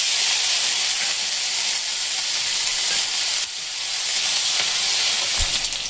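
Chopped onion, black cumin seeds and a torn bay leaf fry in hot oil, giving a steady, loud broadband sizzle and hiss that runs unbroken throughout with a few small crackles.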